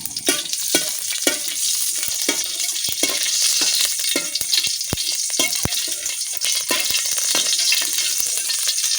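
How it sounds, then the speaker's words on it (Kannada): Mustard seeds splutter in hot oil with cumin for onion rice: a dense, steady sizzle broken by many sharp, scattered pops throughout, close and fairly loud, with no voices. "ನೋಡಿ, ಇವಾಗ ಸಾಸಿವೆಲ್ಲ ಸಿಡಿತಾ ಉಂಟು."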